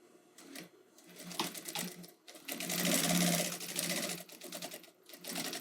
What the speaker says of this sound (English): We fold this down, just finger press it down, and top stitch here.